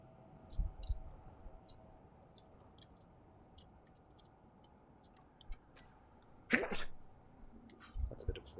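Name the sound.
sneeze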